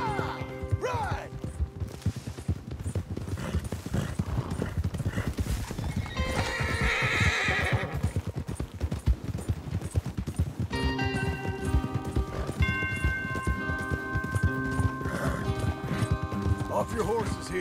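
Horses gallop in the video game Red Dead Redemption 2 with steady clip-clop hoofbeats and a loud whinny, while a music score and faint voices play along underneath.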